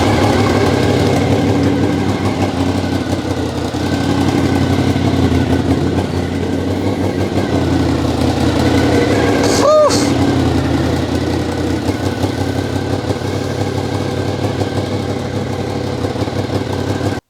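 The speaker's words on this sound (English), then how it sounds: "we've managed to get the bike running and I could not be happier" A Honda VFR motorcycle engine running on diesel fuel, idling steadily and loudly up close for the whole stretch, with a short whining sweep near the middle.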